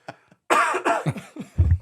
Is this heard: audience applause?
no